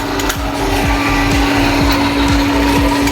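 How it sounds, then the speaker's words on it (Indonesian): Steady hiss of steam escaping from a baglog steamer as water boils inside, used for cooking oyster mushroom growing bags, with a continuous loud rushing noise and a faint repeating mechanical thump underneath. "Ini uap itu menandakan berarti air di dalam mendidih ya."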